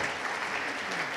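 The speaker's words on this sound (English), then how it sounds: "Come on, you can applaud." An audience claps for startup CEOs welcomed onto a summit stage, a dense, even burst of applause filling the moment at moderate volume with no voices standing out.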